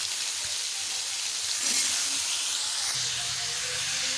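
Cut green banana and potato sizzle in hot oil in a pan, tempered with cumin, giving a steady, fairly quiet frying hiss with small crackles throughout.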